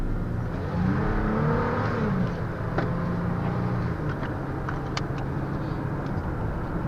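A 2010 Toyota Tacoma V6 pickup truck accelerates, its engine note rising and falling under steady road and cabin noise, heard from inside, with a few light clicks and no talking.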